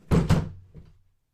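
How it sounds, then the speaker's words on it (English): A dog bangs against a studio door: two heavy, close thumps in quick succession, followed by a softer knock and a fading rattle, with nothing else heard. "Quit beating on the door."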